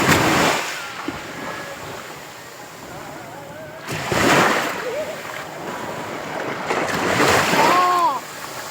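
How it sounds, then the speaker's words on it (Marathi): Ocean waves break on the Konkan coast in three separate surging crashes with splashes between them, and wind buffets the microphone while a voice is briefly heard. "लाट आली."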